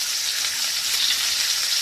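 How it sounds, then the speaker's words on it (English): A frying sizzle sound effect played during a live stream: a steady, broadband crackling hiss like food sizzling in a hot pan, continuous and fairly loud for about two seconds with no voices. "give them their little sizzle sound effect right here"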